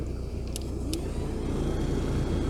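A VW Scirocco MK2 engine idles steadily, a constant low rumble with a smooth even drone and no hesitation, with a couple of faint brief clicks near the start.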